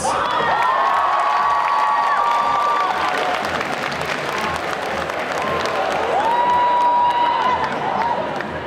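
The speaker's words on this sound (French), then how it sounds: "Merci d'accueillir sous vos applaudissements" A crowd cheers, whoops and applauds at a cosplay parade at a geek festival in Bordeaux. The noise is loud and sustained for several seconds, and shouts and a ringing tone rise above the dense clapping.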